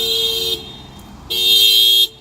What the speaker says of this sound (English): someone just set off a car alarm beside me